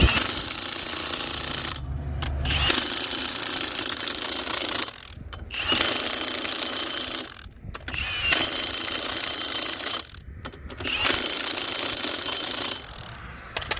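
A Milwaukee impact wrench hammers lug nuts tight on a Ford Transit Connect wheel in four loud, sustained rattling bursts separated by brief pauses.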